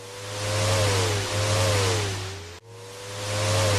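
Car engine sound effect from a Scratch racing car game, a continuous revving hum whose pitch wavers up and down, cutting off briefly and restarting near the end, loud and alone.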